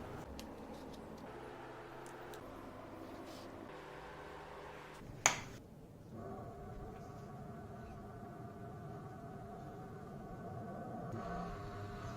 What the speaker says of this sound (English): Next is a 40 volts 2 amperes CNC spindle motor.